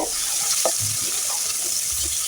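Fish coated in turmeric, salt and chili frying lightly in oil, a soft steady sizzle with a few faint scrapes and clinks near the pan, no talk.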